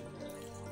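Water pours into a bowl of wheat flour dosa batter in a home kitchen, a brief, steady trickling splash with no talking.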